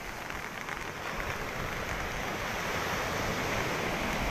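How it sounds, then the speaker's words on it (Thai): Storm Pabuk drives a continuous, heavy wash of sea waves and wind along the coast, a dense broadband roar that builds slightly louder, with no voices. "คลื่นกำลังมาแล้วครับ"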